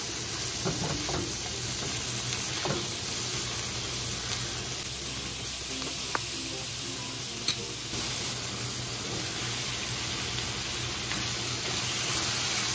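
Chicken liver stirs in hot cooking oil, a steady low sizzle and frying hiss with occasional soft scrapes and taps of the spoon against the pan.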